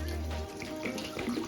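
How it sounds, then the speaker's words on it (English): Hot water, about 60 degrees, is poured over rice noodles in a kitchen to soften them, making a steady, fairly quiet splashing stream. "First step, I'm gonna be pour some hot water, leaving for 20 minutes, 30 minutes until it's a little bit soft."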